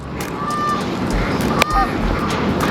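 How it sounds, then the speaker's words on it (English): Geese honk repeatedly outdoors at moderate distance, with a few calls standing out over steady background noise and no talking. "We're gonna let her go over here see these geese over here."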